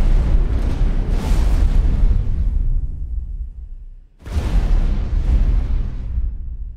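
A smart missile strikes its target in the space game X4 Foundations: a heavy, rumbling explosion that roars and fades away, then a second big blast erupts a few seconds later, with no voices.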